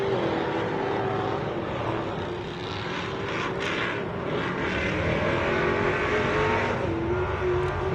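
Off-road race vehicles blasting through a rock section at the MetalCloak Stampede, a continuous engine roar at moderate distance with rising and falling revs and a few sharper bursts, no talk.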